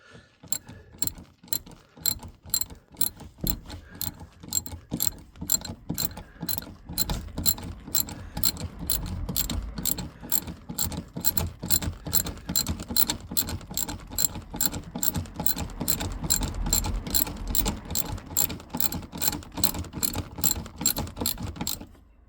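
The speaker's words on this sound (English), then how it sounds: "With a simple ratchet, you just get on the end and we'll ratchet the hell out of it until it starts to pull up tight" A hand ratchet tightens the handbrake cable on a classic Mini, a close, steady run of sharp rapid clicks repeating for over twenty seconds, with no talk.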